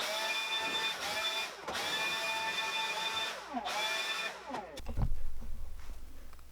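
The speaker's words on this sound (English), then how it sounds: "So a couple more passes, we'll be done with this." An electric wood planer makes passes along a board in a workshop, a loud whining cut with brief pauses between passes, then a deeper rumble at the end.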